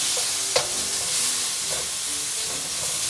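Seasoned pork frying in a pan, a steady close sizzle and hiss with a couple of brief scraping stirs and a light clink near the start, no voices.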